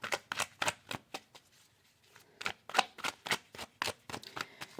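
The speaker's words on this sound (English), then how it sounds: "let's go ahead and put these to the side. And let's go ahead and get two cards." Oracle cards are shuffled and handled close up, a quick run of crisp flicking riffles with a short pause in the middle, fairly soft and with no talking.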